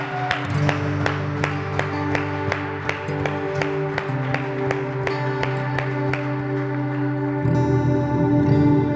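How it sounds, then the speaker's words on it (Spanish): A church congregation claps in a steady rhythm during a worship service, sharp even beats carried over sustained keyboard or organ music for the whole stretch. "¿Cuántos pueden darle un aplauso a Cristo en esta noche?"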